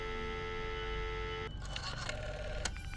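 A telephone call placed from a handset: a steady dial or line tone, then a burst of beeping tones as the call connects and starts ringing, fairly close and with no talking.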